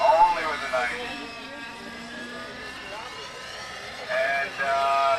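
RC helicopter with a 90-size engine flies extreme 3D manoeuvres, a high whining buzz that rises and falls in pitch as it swoops, louder at the start and end, moderately distant.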